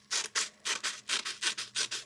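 Scissors cut paper into a heart shape with a quick, even run of about ten crisp snips, close up with no voices.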